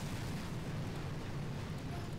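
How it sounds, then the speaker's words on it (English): Artillery fire explosions in the Boom Beach video game, heard as a dense, continuous booming rumble with no clear gaps between blasts, loud and heavy in the low end throughout. "Will two artilleries take out the boom cannons?"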